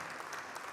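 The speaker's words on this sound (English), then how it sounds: "And while we are clapping" Applause from an audience at a fall charity event, a steady wash of clapping at moderate distance with no voices over it, holding evenly for under a second.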